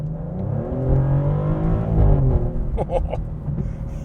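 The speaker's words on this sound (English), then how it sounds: "It makes such a good sound on upshift." A 2025 Maserati GranTurismo Trofeo with an 8-speed automatic transmission revs up through an upshift. A steady engine drone climbs in pitch. Brief higher bursts follow near the end, heard up close.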